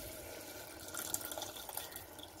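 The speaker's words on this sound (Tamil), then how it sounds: "இப்போ நம்ம எடுத்து வச்சுக்கிற தேங்காய் பால் ஊற்றிக்கலாம்." Coconut milk poured into a clay pot of spicy Kerala-style vanjaram fish curry gives a soft, liquid trickle with light splashing that swells in the middle and fades, fairly quiet with no talk.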